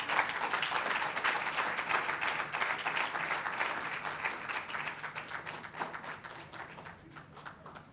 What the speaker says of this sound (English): Please, ladies and gentlemen, a warm round of applause as he comes to the stage.